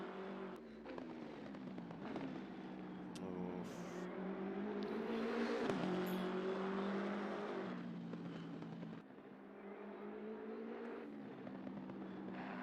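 A BMW GT3 race car engine in the Assetto Corsa Competizione racing game drones at moderate volume with rising and falling revs and gear changes, plus a brief burst of other noise early on.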